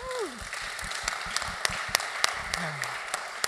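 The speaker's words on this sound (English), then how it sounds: "Can we get a round of applause for Elijah?" An audience at an art and chess panel claps for a young chess player, with scattered sharp claps spread across the clip and voices talking underneath.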